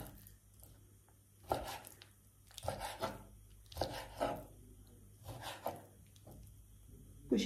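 A knife chops through chicken meat on a cutting board while kebabs are prepared, giving about six separate, fairly close thuds spaced a second or so apart over low kitchen background noise.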